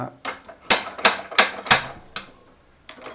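A rapid series of sharp, dry clicks, about five in quick succession and then a few more spaced out, like a gas stove igniter sparking.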